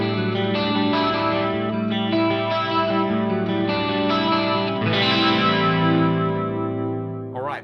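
Clean electric guitar tone with no chorus added, a sustained chord ringing with a few picked notes, full and close, fading at the end, no voices.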